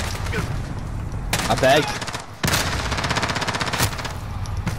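Rapid automatic fire from a sentry gun in Call of Duty, loud, dense bursts of shots broken by a brief pause, with someone talking over the gunfire.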